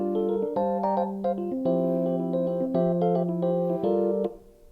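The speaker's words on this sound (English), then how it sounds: "by pressing one button I get a very nice electric piano phrase" A Roland FA-06 workstation plays an electric piano arpeggiator phrase, a steady repeating pattern of bright chord tones with a sustained low note underneath, clean and close, ending as the notes fade out.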